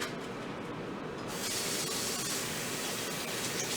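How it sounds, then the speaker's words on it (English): Several strawberries are rinsed under a running kitchen tap, a steady hiss of spraying water that grows louder and brighter after a moment and then continues evenly. "And I'm going to just rinse off several strawberries."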